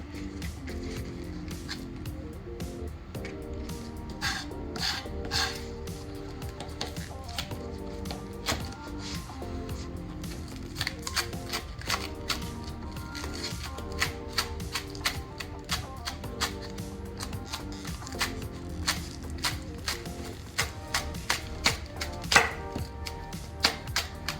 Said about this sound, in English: go back over a little bit, mince it all up